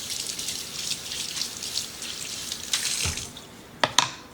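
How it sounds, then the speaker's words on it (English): A spoon is rinsed under a running kitchen tap, giving a steady hiss of flowing water, followed by a couple of brief clinks near the end. "let me rinse off the spoon."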